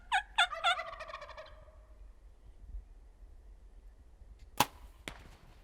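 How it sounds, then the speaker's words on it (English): A wild turkey gobbles loudly several times in quick succession during a hunt, followed after a pause by the sharp snap of a bow releasing and an arrow striking, with a second fainter crack just after. "he drew his bow and took the shot"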